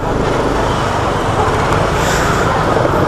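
Busy Friday road traffic, a loud steady roar of cars and heavier vehicles passing close by, continuous rumble with slight swells.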